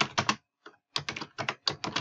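Someone types on a computer keyboard in quick clustered bursts of clicks, with a short pause and a faint tap in the middle, close and clear, with no talking.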